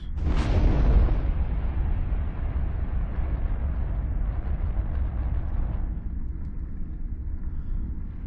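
Missiles detonate in a space video game, a loud deep boom near the start that rolls into a long, dense rumble lasting several seconds before easing.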